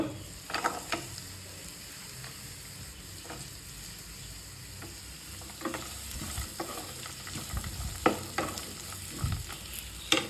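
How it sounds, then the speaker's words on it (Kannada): Capsicum curry with coconut sizzles in a hot pan while a spoon scrapes and stirs it, a steady close frying hiss broken by irregular clinks and scrapes, with no talking. "ಚೆನ್ನಾಗಿ ಫ್ರೈ ಆಗಬೇಕು."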